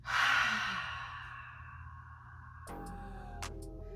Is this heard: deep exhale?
yes